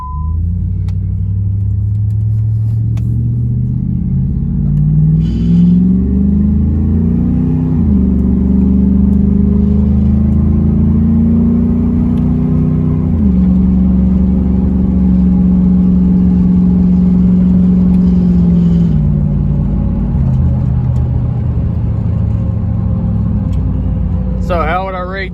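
A 3rd Gen Ram truck fitted with a Bully Dog GT tuner pulls away and drives down the road, its loud engine droning steadily and rising and falling through gear changes, with talk inside the cab.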